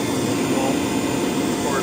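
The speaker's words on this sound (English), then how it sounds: "Got a shop vac" A cordless shop vac attached to the engine fill port of a 2003-2005 Ford Excursion Powerstroke diesel runs with a loud, steady, close-up whooshing roar, while someone talks over it.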